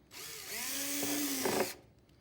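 A power drill whirs up and runs for under two seconds, punching a hole through a painted, taped circle on an Etch-a-Sketch build, its pitch sagging as it bites, then cutting off cleanly.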